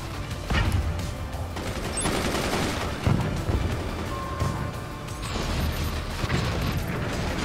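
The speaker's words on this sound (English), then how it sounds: "we're firing our missiles, though" Missiles firing in the video game Forts, with a barrage of loud booms and blasts layered over mechanical clanks, several sharp bursts standing out against dense continuous battle noise.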